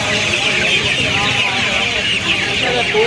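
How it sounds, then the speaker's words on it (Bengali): Tiger breed chickens cluck steadily at close range, a busy, continuous flock sound with a voice speaking over it, at the Uluberia hen market near Kolkata. "এইগুলো কি মুরগি আছে বলো এগুলো টাইগার মুরগি"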